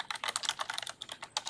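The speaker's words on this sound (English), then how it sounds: "I'm typing some notes as you go" Rapid keystrokes tap out on a computer keyboard, a busy run of crisp clicks in short bursts with brief pauses, close by and alone without voices.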